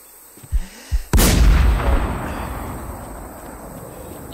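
A single loud gunshot in the online survival shooter The War Z, a sharp blast followed by a long rolling echo, preceded by a couple of faint thuds, with no talking.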